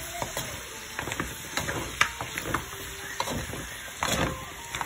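Pork ribs adobo stirred in a frying pan: a steady sizzle of hot oil runs throughout, with repeated scraping and clacking strokes of a utensil against the pan at an uneven rhythm, close and fairly loud.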